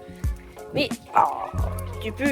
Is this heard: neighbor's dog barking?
yes